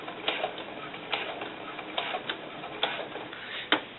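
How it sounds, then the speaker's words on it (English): A sewing machine stitches vinyl doll boots, giving soft, irregular mechanical clicks and ticks over a steady low whir, close and fairly quiet. "I'm sewing this to this seam."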